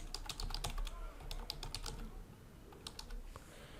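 A computer keyboard clicks in rapid, uneven bursts of keystrokes as a channel name is typed. The taps are close and fairly quiet, with no talking.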